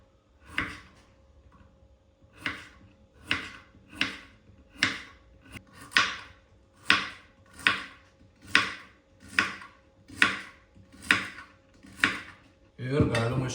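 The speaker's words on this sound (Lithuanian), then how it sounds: "Pjaustom tokiais didesniais gabalėliais." Firm knife chops through vegetables for fermenting, such as cauliflower and radish, cut into large pieces on a board: about a dozen crisp, evenly spaced cuts close up, each a sharp thud, with a quiet pause early on.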